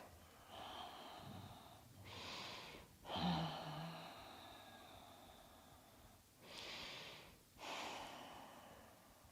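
Slow, deep breaths during a seated neck and shoulder yoga stretch, several soft inhales and exhales spaced a few seconds apart, close and quiet.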